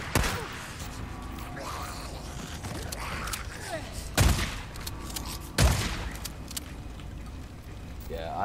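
Two loud, sharp shotgun blasts from the video game Days Gone ring out a second or so apart, over a steady bed of game ambience and background noise.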